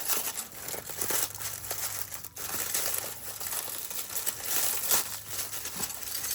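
Paper and packing material crinkle and rustle steadily as a shipping parcel of glass items is torn open by hand, close and fairly loud, with no speech.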